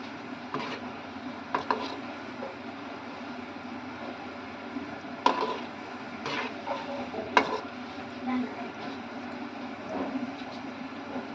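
Gulab jamun dumplings frying in hot oil, a steady low bubbling sizzle with occasional soft clinks and stirring knocks, fairly quiet and without any voices.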